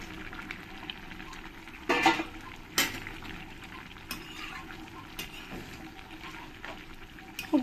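Fried puti fish go into a thick, reduced curry simmering in a pan, with a few sharp clatters and stirring scrapes over a soft steady bubbling sizzle, close and fairly quiet, no talking.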